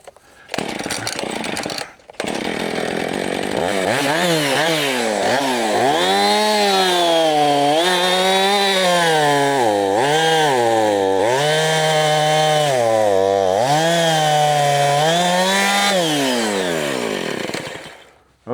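A chainsaw cutting firewood during rural farm chores, the engine revving and bogging in repeated surges as the blade bites into logs, loud and close and running almost continuously after a brief start-up.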